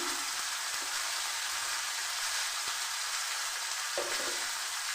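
Ginger and green chili paste frying in a pan, a constant soft sizzle with a few faint scrapes of stirring, alone and at moderate distance.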